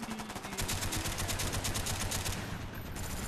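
Sustained automatic gunfire from a held-down trigger in Call of Duty: Black Ops Gun Game, a dense, rapid stream of shots running nearly unbroken and loud for several seconds with no talking.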